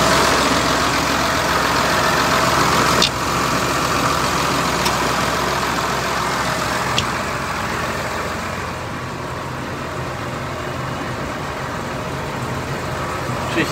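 A 2012 New Holland T6.175 tractor with about 5700 hours idles nearby, its diesel engine a loud, steady, even drone that holds unbroken throughout, with a couple of faint clicks.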